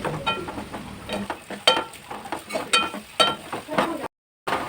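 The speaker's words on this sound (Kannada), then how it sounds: "ಈಗ ನೀರುಳ್ಳಿ ಫ್ರೈ ಮಾಡ್ಕೊಂಡ್ಲಿಕ್ಕೆ ಹಾಕ್ಕೊಂಡೆ." Onions frying in oil that was not yet hot, for a paneer curry, with soft sizzling under repeated sharp spatula scrapes and stirs against the pan.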